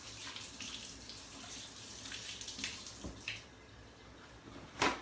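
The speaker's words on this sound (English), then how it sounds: "let me wash my hands" A kitchen tap runs steadily as hands are washed under it, a soft continuous splash with a brief louder clatter near the end.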